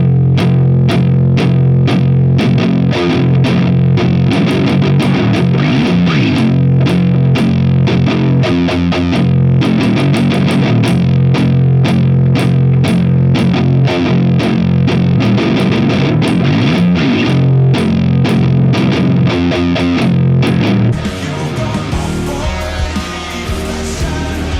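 A palm-muted electric guitar riff played clean without overdrive, the verse part of a song, runs steadily in a dense muted chugging pattern over a full backing mix before thinning out near the end.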